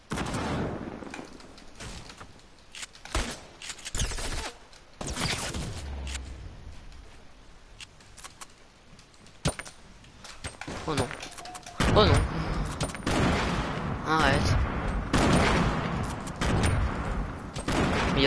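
Gunfire in the video game Fortnite, with bursts of shots and heavy impacts scattered across the stretch, some close and loud, others farther off, under frequent talking.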